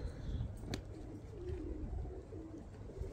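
Pigeons coo softly in a low, murmuring pulse over steady background noise, with one brief sharp click partway through.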